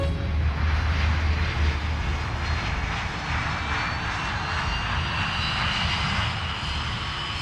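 An aircraft engine roars steadily through a takeoff in a film scene, a loud, continuous drone with no breaks and no voices.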